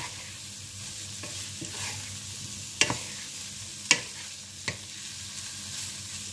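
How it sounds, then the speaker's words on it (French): Butternut squash and shallot are stirred in a frying pan over a soft, steady sizzle. A few sharp utensil clacks against the pan stand out near the middle. "Et je viens ajouter mon butternut. On mélange délicatement."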